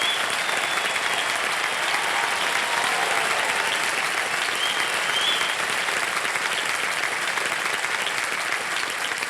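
Studio audience applause on the Indian quiz show KBC welcoming actor Randeep Hooda: a steady, dense wash of many hands clapping at a sustained loud level, with a faint tone running underneath.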